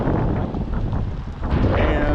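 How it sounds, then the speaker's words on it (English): Strong wind buffets the microphone during an outdoor walk, a continuous loud low roar with gusty swells and a brief dip midway, filling the whole moment. "it is very windy today"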